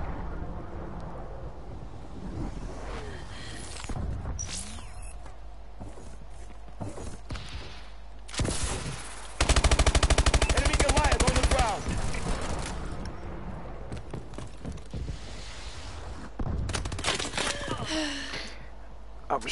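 Gunfire and explosions from Call of Duty: Advanced Warfare come in sharp, irregular bursts, with one dense, loud barrage in the middle, while someone talks over the action at times.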